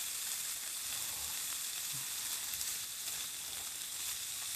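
Store-bought charcoal-grilled chicken sizzles steadily on a hot plate, a continuous close frying hiss with faint crackles throughout and no talking.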